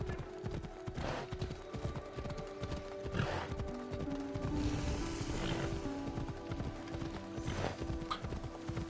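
Horse hooves clip-clop in Assassin's Creed Odyssey, a steady trotting rhythm over several seconds with a faint whinny and a low musical drone underneath.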